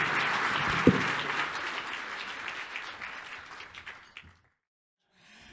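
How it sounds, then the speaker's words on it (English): Audience applause at a fundraising dinner, a dense round of clapping that fills the room and tapers off, ending abruptly in silence after about four seconds. "big round of applause to the Believe Big medical team"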